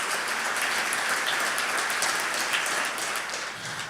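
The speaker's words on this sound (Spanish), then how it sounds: "El aplauso bien fuerte al Señor." A church congregation applauds loudly during a sermon, a dense, sustained wash of clapping that stays strong for several seconds and eases slightly near the end, with no speech over it.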